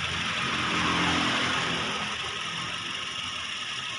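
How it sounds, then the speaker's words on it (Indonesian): A Mazda CX-7 turbocharged car engine idling steadily at close range, a smooth continuous hum with broad hiss and no revving or talk over it. "mesinnya halus, halus sekali"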